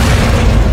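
A thrown gas cylinder explodes in an action film scene, a loud, close, sustained deep boom that fills the whole moment without pause.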